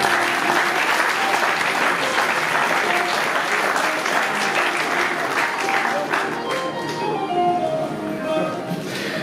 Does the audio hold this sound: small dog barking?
no